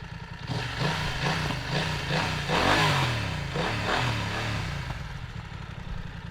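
A BMW F900R on its standard stock exhaust revs repeatedly at close range, the engine note swelling and dropping in a series of throttle blips with a rumbling idle between them.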